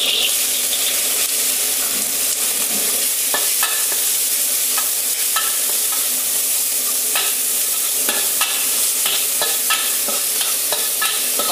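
Beef sizzles and fries in a hot wok for a Sichuan-style green bean dish, with steady crackling and repeated stirring scrapes throughout, loud and close with no talk.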